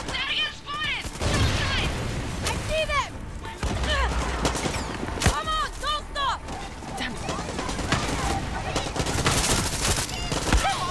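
Pistol gunfire in a video game, with repeated sharp shots and bursts crackling through a busy, loud mix of game sounds.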